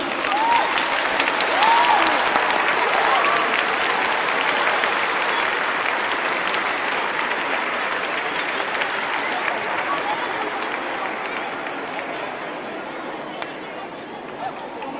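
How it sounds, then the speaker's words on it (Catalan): Audience at a choir cantata concert applauds steadily and loudly for the whole stretch, a dense wash of clapping with a few cheers and murmurs, tapering slightly toward the end. "si els hi feu un fort, fort aplaudiment, us encantarà a nosaltres"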